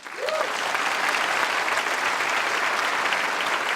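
A congregation at a church leadership conference in Bogotá, Colombia, bursts into loud, sustained applause that holds steady and dense for several seconds, with no voice over it.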